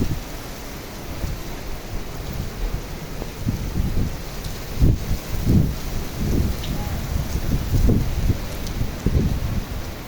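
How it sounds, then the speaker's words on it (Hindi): Heavy downpour over Karachi neighbourhoods during a thunderstorm, a steady dense roar of rain with repeated low rumbles of thunder swelling and fading throughout, fairly loud and close, with no voices. "गरज चमक के साथ धुआंधार बारिश हो रही है।"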